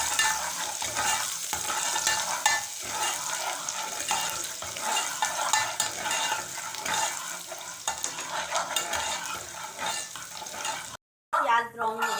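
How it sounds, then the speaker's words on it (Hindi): Finely chopped onions frying in a pan during home pizza preparation, a constant close sizzle with intermittent stirring and scraping, moderately loud, with a short break near the end. "इसमें ये प्याज बारीक कटी हुई डालेंगे। इसको भी थोड़ी सी कर लेंगे, फ्राई कर लेंगे।"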